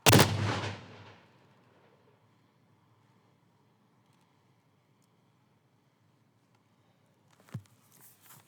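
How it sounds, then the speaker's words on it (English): A single loud artillery salute blast at a 9/11 memorial ceremony in Atlantic City, a sharp close boom that decays over about a second into quiet outdoor ambience, followed by a fainter thump and distant sounds. "Stand by for artillery!"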